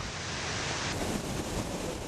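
A dense, steady hiss of falling water and spray from Victoria Falls pours down close by, constant and enveloping like a heavy shower, with no voices.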